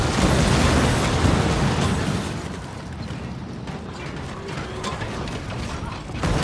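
Ship cannons firing in a naval battle in the pirate video game Skull and Bones, a loud, dense roar of blasts and rumbling booms with mechanical clatter, heaviest at first and then settling into sustained battle noise.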